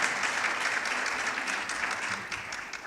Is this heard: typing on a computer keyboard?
no